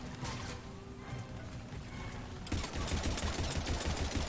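Rapid automatic gunfire in the shooter game Mass Effect 3 rattles in a dense burst over steady background noise, growing louder and busier partway through.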